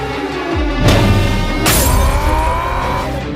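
Narain Karthikeyan drives a race car hard on a track, a loud close engine note that rises and surges through revs with sharp shifts, heard alone.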